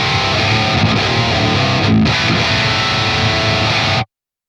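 Electric guitar through a Fortin Nameless Suite X amp plugin, a dense, loud high-gain distorted chug that rings for about four seconds and then cuts off abruptly.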